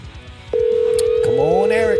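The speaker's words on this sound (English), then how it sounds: "Here we go, dude. It's ringing." A phone line ringing out on a call into a radio show phone system, a steady electronic ring tone starting abruptly and holding loud and close, with a voice talking over it.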